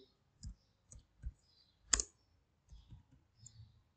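Keys on a computer keyboard are tapped one at a time while a date is typed into a Microsoft Word document, giving about eight quiet, separate clicks spread over a few seconds in a silent room.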